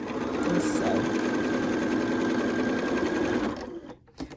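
A sewing machine stitches pieced quilt blocks with matched seams, a steady loud mechanical whir and rapid needle chatter running continuously before stopping abruptly near the end.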